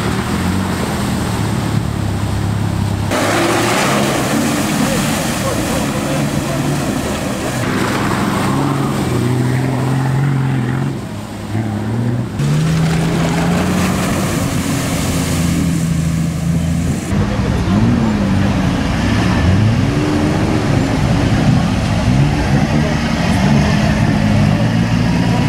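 Off-road 4x4 rally vehicles, including a Suzuki Samurai, rumble and churn through deep water, engines revving loudly and continuously with splashing and shifting tones throughout.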